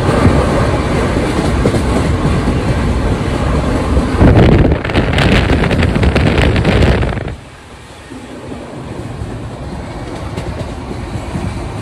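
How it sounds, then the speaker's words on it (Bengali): A Shipra Express train rumbles and clatters loudly at close range as it pulls out of the station, the heavy roar with wind buffeting dropping off sharply to a quieter steady running hum. "ট্রেন ছেড়ে দেবে হয়তো এক্ষুনি।"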